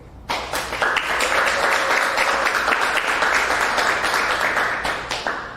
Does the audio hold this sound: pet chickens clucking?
no